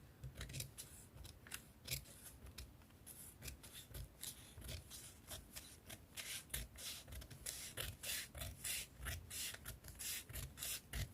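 Scissors snip through a paper sleeve pattern in a steady run of crisp, close cuts with rustling paper between them, quiet and alone.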